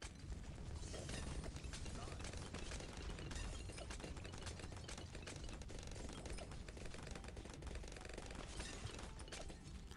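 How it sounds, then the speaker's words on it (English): A Dartling Gunner tower in the Bloons TD6 video game fires nonstop. The rapid mechanical rattle of gunfire is dense and unbroken, mixed with game effects, and stays at a steady, fairly faint level throughout. "look at the Darling Gunner shooting that tack shooter"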